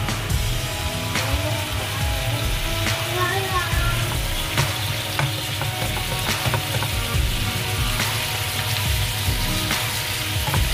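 Pork steak browns in a pan over high fire, a steady loud sizzle with crackling pops and occasional spatula scrapes, and a voice speaking faintly underneath.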